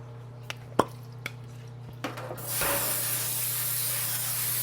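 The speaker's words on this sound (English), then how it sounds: "I have olive oil cooking spray." A few small clicks and taps, then a steady loud hiss of an olive oil aerosol cooking spray being sprayed continuously, close up.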